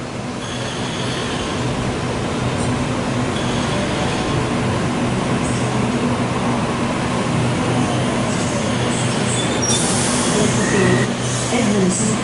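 A Waratah passenger train on a Blacktown-only service pulls away from platform 2 at Parramatta station, a steady, loud rolling rumble with low hum filling the platform throughout.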